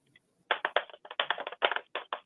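A voice mimics scraping inside an empty container, with a quick run of rough, rasping strokes in an uneven rhythm, close and fairly quiet.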